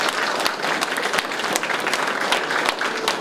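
Steady applause from a ceremony audience at the opening of a traditional culture experience hall in Sejong, with dense continuous clapping throughout, loud and close.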